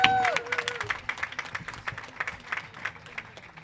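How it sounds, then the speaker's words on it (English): Audience applause at the reopening ceremony for the Nicholas J. Melas Centennial Fountain on the Chicago Riverwalk: scattered, moderate clapping from a crowd outdoors, with a brief tonal sweep at the start. "Everyone, please give the architect of the Nicholas J. Melas Fountain a round of applause."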